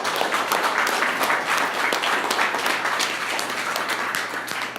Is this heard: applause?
yes